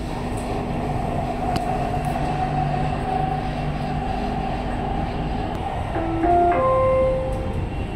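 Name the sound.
driverless Dubai Metro train at a station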